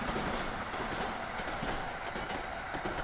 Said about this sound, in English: Oh, that clickety clacking